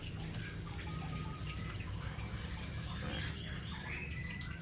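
Water is poured steadily over rooted plant cuttings in growing media, a continuous close splashing and trickling with faint birdsong in the background.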